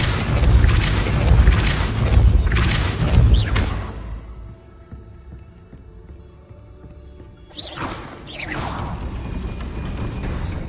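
The Depulso spell is cast in the Hogwarts Legacy video game, giving heavy whooshing, booming bursts for several seconds. A quieter stretch follows, then a second forceful blast.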